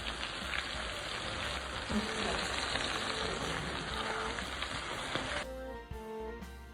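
Mutton curry (hara bhuna gosht) cooking on high heat, a steady dense sizzle and bubbling hiss throughout, close and even, fading into a quieter tail near the end.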